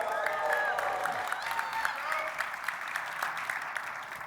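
A rowdy crowd applauding at a Dassault Systèmes industrial AI event, steady dense clapping with a busy murmur of voices, moderately loud and continuous throughout.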